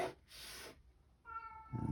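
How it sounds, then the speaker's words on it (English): A cat meows indoors to be let in: two fairly faint drawn-out meows, then a shorter third call, with quiet pauses between them. "Cat really would like to get in here, but we're not going to let him in."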